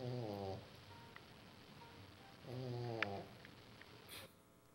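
Puppies snoring, two slow, soft rasping breaths a couple of seconds apart, close and faint, in a quiet room.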